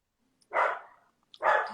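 A dog barks twice, sharp and close, with a short pause between the barks and near silence around them.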